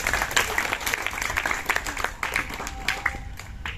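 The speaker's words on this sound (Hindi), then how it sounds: "ताली अभी आप लोगों ने बजाई" Scattered clapping from an audience at a cultural event, a fairly soft patter of individual claps that rises and thins without building into a roar.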